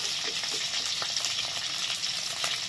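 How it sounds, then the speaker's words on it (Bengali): Potatoes fry in hot oil with a steady, dense crackling sizzle and faint scattered pops, close and continuous with no voices. "তারপরে এদিকে আলু ভাজা হচ্ছে"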